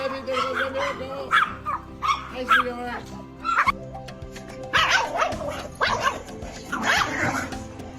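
Several small dogs bark and yip in short overlapping bursts close by, with some whimpering between barks and music playing underneath.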